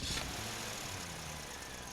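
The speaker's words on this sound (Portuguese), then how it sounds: "Essa é uma EcoSport, tá fazendo esse barulho no motor, parece um rajado, o motor grilando" A Ford EcoSport engine idles with a faint, continuous rattling chatter, a low, even mechanical noise heard alone without any talking.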